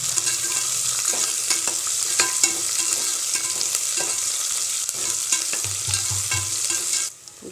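Onions and green chillies frying in hot oil for South Indian green peas rice make a steady, close sizzle, broken by scraping stirring clatter, with no voices.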